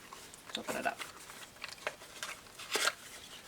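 Light paper and packaging for a small Day 7 quilting advent item crinkle and tear in a few quiet, close, brief bursts.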